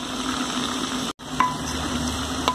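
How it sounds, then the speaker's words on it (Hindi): Layers of mutton and onion are mixed in a pot over heat, making a steady close sizzle with soft scraping stirs and a brief drop in sound partway through. "अब इसे अच्छे अच्छी तरह से मिक्स कर लेंगे प्याज और मटन को अच्छे से मिक्स कर लिया है"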